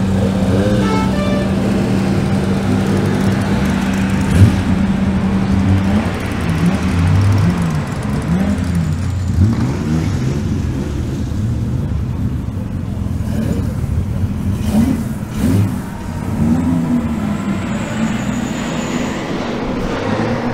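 Classic Jaguar E-Type engines run in the paddock at the Le Mans Classic, a loud continuous low rumble with shifting revs and some rising and falling engine notes, busy crowd ambience mixed in throughout.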